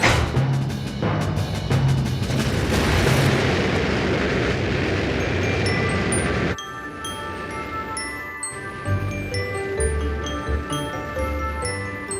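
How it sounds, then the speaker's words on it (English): A cartoon space rocket blasts off to the moon with a loud, sustained roaring rumble. It then drops into a quieter tail with twinkling, chiming sparkle sounds. "5, 4, 3, 2, 1, blast off!"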